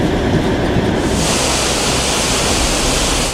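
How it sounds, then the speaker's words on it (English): Storm surge floodwater rushing through the ground floor of a building during a hurricane, a loud, steady roaring wash of water that swells into broadband hiss and holds without a break. "It's the sound of the river running through the bottom floor."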